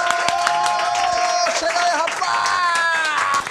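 Applause and cheering at a show celebration: a steady burst of clapping from a small audience, with whoops and a voice speaking over it near the end.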